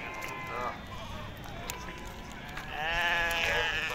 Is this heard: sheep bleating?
yes